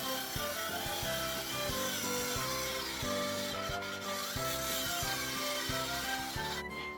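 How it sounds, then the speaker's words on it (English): Handsaw cutting a pallet slat, a close, steady back-and-forth rasp of teeth through wood with regular strokes throughout. "Finish off with a handsaw, but cut the wrong way round"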